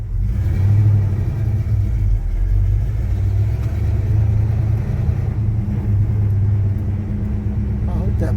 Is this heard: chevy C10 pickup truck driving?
yes